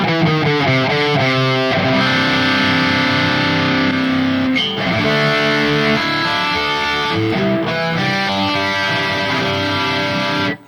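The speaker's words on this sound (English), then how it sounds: "you can get these great crunch tones" Electric guitar crunch tone through the Neural DSP Gojira X amp plugin with long reverb and trimmed highs, distorted chords strummed loudly in a rhythmic chugging pattern, then sustained ringing chords, alone without talk.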